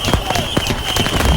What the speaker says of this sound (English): the Chinese somehow manage to launch their final rockets.